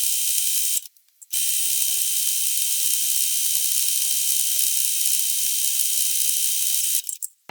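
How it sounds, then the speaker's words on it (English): Mechanical whirring while pink thread is stitched onto a lanyard, a steady high-pitched buzz that runs almost the whole time and stops briefly twice, close and alone. "now I'm going to go down this side so it has stitching on both sides"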